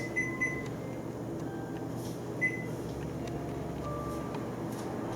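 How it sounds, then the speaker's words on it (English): A kitchen appliance timer, set to 10 minutes while peanuts roast, gives a few short, clear electronic beeps over a steady low background hum. "we're going to go ahead and set the timer for 10 minutes."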